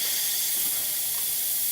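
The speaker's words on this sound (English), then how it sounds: "To confirm, steam is working." A steady, breathy hiss of a Quick Mill Silvano espresso machine steam wand, constant and fairly close, with no talking.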